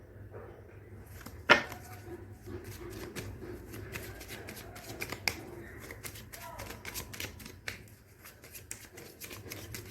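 Tarot cards being shuffled and drawn during a reading, heard as soft, close papery riffles and flicks with small sharp snaps, running steadily through a quiet room with no one speaking.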